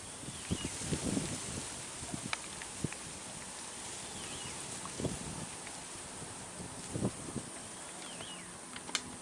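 Wind gusting across a dry-season mountain hilltop on Bukit Mongkrang, a constant rushing blow with occasional buffets and faint scattered knocks, no talking.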